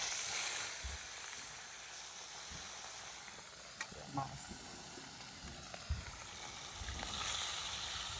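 Fish frying in hot oil in a kadai gives a steady hissing sizzle with a few soft pops and crackles, close by and fairly quiet throughout.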